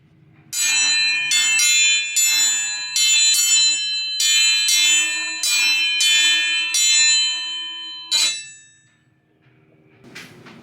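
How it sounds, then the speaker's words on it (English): A metal dinner bell clangs rapidly outdoors in a fast, steady series of bright rings for several seconds, followed by one last strike that fades out. "So we'll get the dinner bell rung and get some children inside."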